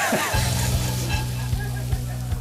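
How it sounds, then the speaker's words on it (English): Nuts and dried shrimp toast in a hot pan, a loud close sizzle with a steady crackle and a low rhythmic hum running underneath. "Once the nuts and dried shrimp are lightly toasted"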